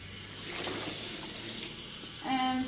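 Water runs steadily from a tap into a kitchen sink, a continuous hiss with a brighter splash toward the end as the flow changes.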